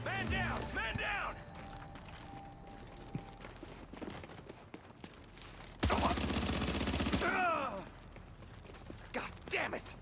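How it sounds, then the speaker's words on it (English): Video game gunfire rattles in short bursts, then a sustained loud stretch of automatic fire, with game sounds and voices mixed in. "Keep shooting."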